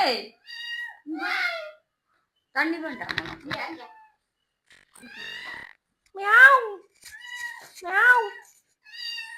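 A cat meows repeatedly and loudly up close, long wavering cries with short pauses, while a person speaks briefly between them.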